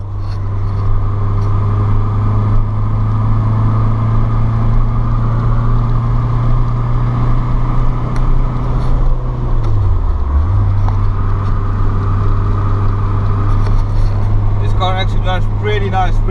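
A car engine hums steadily throughout as the vehicle drives along, with a brief dip in engine pitch partway through and some rattling near the end.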